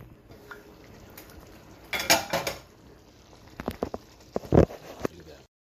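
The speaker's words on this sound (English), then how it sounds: "And I'm gonna stir this up and I'm gonna come back." A spoon stirs seafood chowder with bay scallops and broccoli in a pot, giving scattered clinks and scrapes against the metal in short bursts, close by, separated by quieter gaps.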